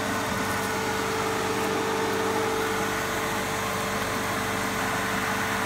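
A Fieldpiece MR45 refrigerant recovery unit pulling refrigerant from an air conditioner gives a continuous, loud mechanical hum with a steady droning tone and constant vibration throughout.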